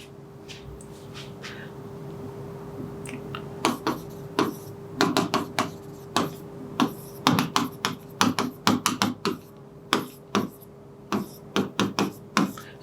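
Marker or chalk strokes on a board while a trigonometry equation is worked out, a string of sharp taps and short scratches in an irregular rhythm over a faint steady hum, with no speech.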